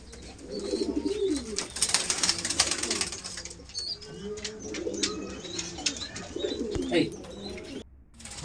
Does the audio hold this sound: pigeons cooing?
yes